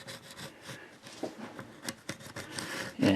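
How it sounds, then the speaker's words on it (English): A dull screwdriver scrapes around the outside edge of a Mercedes-Benz W140 S-Class wheel rim, making short, quiet rubbing and scratching strokes in an irregular rhythm, close by, with a slightly louder scrape at the end. "I'm going to use a dull screwdriver and go around the outside of the rim like this"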